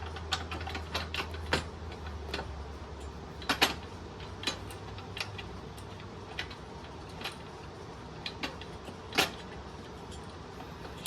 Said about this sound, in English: So we're going to get a socket and run those up a little more.